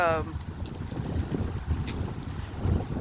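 Wind buffets the microphone in uneven gusts during a nighttime walk, a low rumbling roar that swells and fades throughout.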